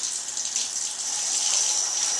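A steady trickle of water pours from a neti pot into a nose during sinus rinsing, a soft continuous splashing hiss, close and even, with no talk over it.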